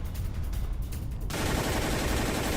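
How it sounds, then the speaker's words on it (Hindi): Russian rocket and mortar shelling makes a dense, continuous roar of rapid blasts and crackling fire. The sound is loud and unbroken, and it grows harsher and thicker halfway through. "रूस ने रॉकेट और मोर्टार से बड़े हमलों को अंजाम दिया है"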